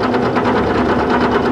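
Small benchtop mini milling machine cutting metal with light passes, giving a loud, steady whine with a sustained tonal hum and even vibration throughout, no speech.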